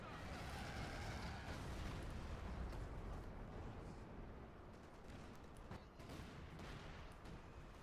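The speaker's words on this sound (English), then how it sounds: "There's some type of artillery coming in." Artillery shells land in the Company of Heroes 2 video game, a dense, continuous rumbling barrage of overlapping explosions and crackling blasts that stays loud across the whole stretch.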